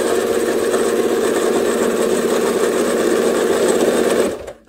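A quilting sewing machine set up for free-motion and ruler work runs flat out at top speed, a loud, steady, high-pitched whir that holds for over four seconds before cutting off abruptly.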